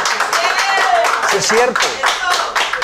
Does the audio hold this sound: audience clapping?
yes